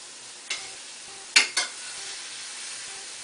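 Ground beef browns in a pan on a quiet, steady sizzle, with a few brief scraping stirs of a utensil against the pan and no talking.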